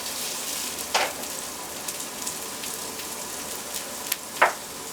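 Onions and yellow peppers sauté in a pan, giving a steady soft sizzle with a couple of brief sharper crackles. No one speaks.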